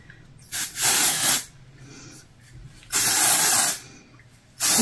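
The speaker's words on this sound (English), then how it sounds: "Okay, so now I'm gonna take my texture spray." Texture spray hisses from a can onto the hair roots in three close, loud bursts, each lasting roughly half a second to a second, separated by quiet gaps.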